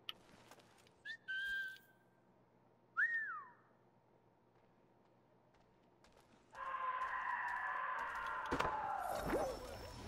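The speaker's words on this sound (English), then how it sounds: "Can I whistle?" A character whistles in the Assassin's Creed III video game, giving two short rising-falling whistles early on, clear against a quiet backdrop, before a louder, busier stretch of game noise takes over.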